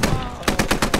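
Rapid automatic gunfire in the video game Squad, a loud, close burst of evenly spaced shots cracking in quick succession.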